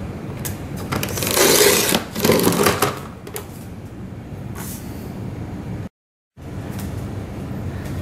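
Cardstock being cut down to 6.25 inches on a paper trimmer for a handmade thank-you card, a dense scraping, rasping slide over several seconds followed by a short silence and a softer rustle.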